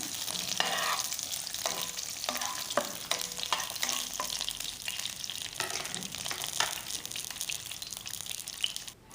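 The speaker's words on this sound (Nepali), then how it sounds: "अब यसलाई हामी मजाले चलाउँदै जान्छौं।" A utensil stirs chopped chilli and bay leaves frying in hot oil in a pan, with scraping strokes over a steady crackling sizzle, close and moderately loud.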